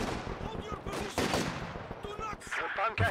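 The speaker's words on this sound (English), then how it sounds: "Mortars and machine guns all across the map." Rapid machine-gun bursts and mortar impacts in Company of Heroes 2, a 4v4 World War II battle, crackling in quick rhythmic volleys with heavier thumps mixed in, and a voice commentating over the fighting.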